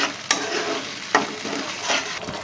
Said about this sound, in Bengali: এটা একটু ভালো করে নাড়াচাড়া করে নেব